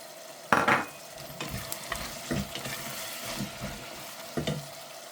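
Fava beans, peas and artichoke fry and are stirred in a pan, making a soft, steady sizzle broken by a few louder scrapes and clinks of the spoon against the pot, heard close up with no talking.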